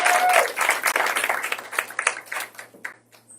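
A church congregation at a Sunday service breaks into applause, loud at first and then thinning out into scattered claps.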